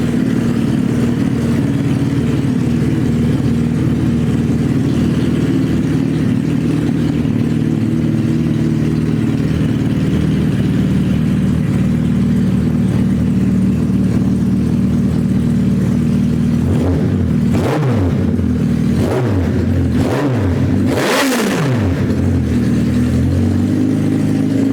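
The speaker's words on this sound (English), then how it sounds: "It's loud because there's no exhaust on it, but it's hitting on all cylinders now." A loud, raw Suzuki Hayabusa GSX1300R engine with no exhaust, recovering from a wreck, idles roughly, then near the end blips the throttle in several sharp, bellowing revs, close and unmuffled.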